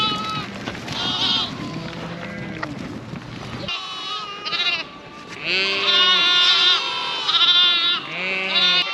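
Lambs and sheep bleat in a field during lambing season, many repeated wavering calls overlapping near and far, loud and close in the later part, with a steady background rumble early on.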